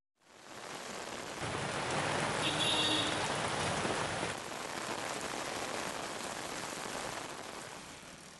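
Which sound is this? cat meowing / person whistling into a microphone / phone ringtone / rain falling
rain falling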